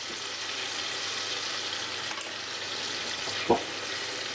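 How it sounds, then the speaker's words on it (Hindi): Spice masala with tomato frying in a pan after a splash of water, a steady broad sizzle running throughout with one sharp clink of a utensil near the end; no one speaks. "थोड़ा सा हम पानी डालेंगे मसाले में और मसाले को 4-5 मिनट अच्छे से भूनेंगे"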